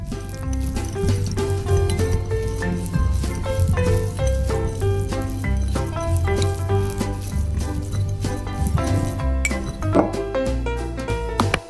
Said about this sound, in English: Time to stir it.